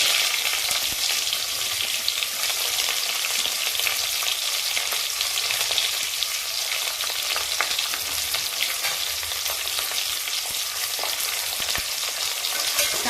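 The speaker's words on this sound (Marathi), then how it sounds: "चांगला चांगला परतून घेऊ" Onion fries in oil with curry leaves in a pan, a dense continuous sizzle with faint scattered crackles and occasional stirring scrapes, steady throughout and without talk.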